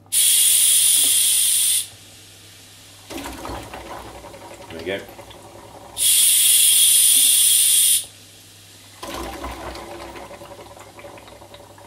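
Pressurised CO2 gas hisses out of a DIY citric acid reactor for an aquarium setup in two loud, steady bursts of about two seconds each, with a person talking and handling the equipment in the quieter gaps between.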